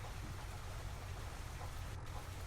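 Heavy rain pours down in the Farming Simulator 25 game, a dense, steady hiss that holds unbroken throughout with no voices.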